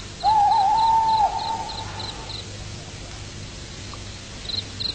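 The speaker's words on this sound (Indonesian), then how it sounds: "Kau dengar suara burung itu?" An owl hoots at night near a village, giving one loud, wavering call that trails off into a fainter tail. Pulsing insect chirps continue in the background.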